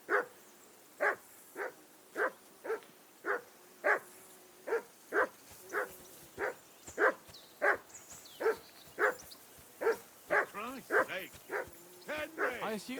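Steady, repeated barking from a single dog in a medieval village scene in the Kingdom Come: Deliverance 2 video game, about twenty sharp barks at an even pace with a few quicker yips near the end, fairly close and clear.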